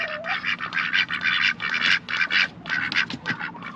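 A group of ducks quack continuously nearby, a dense, raspy chorus of overlapping calls in quick rhythmic bursts.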